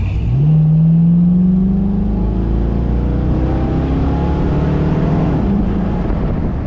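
A 1969 Ford Torino GT with a 351 V8 revs up and pulls away hard, its loud engine note climbing steadily in pitch as it accelerates close by, with no talking over it.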